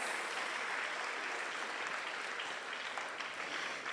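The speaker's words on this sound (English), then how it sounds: "please give a round of applause to more than 300 attendees here that has made this event a success" Dense, steady applause from an audience of more than 300 at a university talk, a continuous wash of clapping at even loudness throughout.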